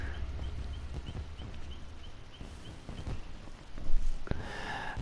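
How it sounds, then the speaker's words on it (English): Horse hooves clip-clop in a steady, light rhythm inside the Dead by Daylight game, with faint snorting over a low ambient bed and a brief louder swell near the end. "they finally brought Maurice the horse back"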